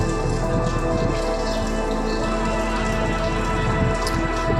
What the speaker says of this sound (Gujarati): આમ જો વરસાદ અત્યારે ચાલુ થઈ ગયો છે